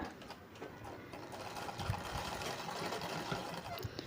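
A sewing machine stitching thread piping runs steadily with a fast, even mechanical whir and faint rhythmic clatter, continuous and fairly quiet throughout.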